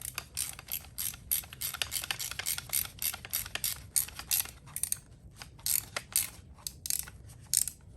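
A ratchet tightening bolts on a Honda Civic upper control arm, with rapid, close metallic clicking in irregular bursts and short pauses over a faint background hum.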